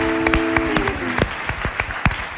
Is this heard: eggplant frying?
no